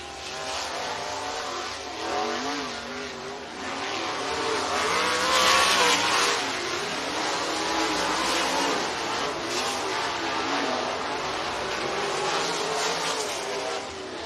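Race cars in a heat race at Southern Raceway in Milton, Florida roar continuously, a dense, loud wash of engines revving and accelerating around the track, with no clear talk over it.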